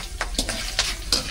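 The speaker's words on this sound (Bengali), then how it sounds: "এবার চিপ ভাজছি" Potato chips fry in hot oil in a home kitchen, giving a steady close sizzle with a few brief stirring scrapes spread over a short moment.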